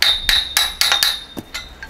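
Hammer striking metal parts of a garden carousel under construction, a run of sharp, ringing, close blows in uneven rhythm, about eight hits, with no talking.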